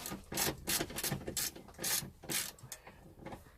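A ratchet undoes the bolts holding a car seat in a T4, with repeated short bursts of close, rasping clicks, each followed by a brief pause.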